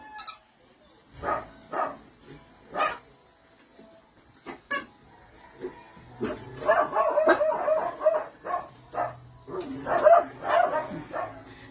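Several dogs bark in scattered bursts, some sharp and close, others overlapping in a busier stretch of yapping toward the end, with a faint voice now and then.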